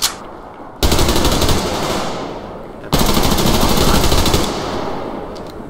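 Shotgun blasts in the online shooter game Survarium, two loud, sharp discharges a couple of seconds apart, each followed by a long ringing decay that fades out.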